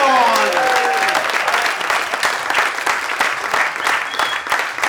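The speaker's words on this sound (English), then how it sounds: "Big round of applause" A comedy club audience claps and cheers for a stand-up comedian taking the stage, with loud, dense applause lasting throughout and a few whistles cutting through near the start.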